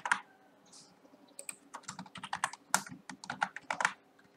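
Computer keyboard shortcut presses such as Ctrl+U and Ctrl+I while building a multiple-choice quiz in Moodle: close, crisp key clicks in quick, uneven bursts, with no talking.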